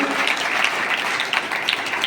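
A crowd at a community gathering claps continuously to congratulate the members of a cooperative credit society, with a dense, even patter of applause sustained from start to end.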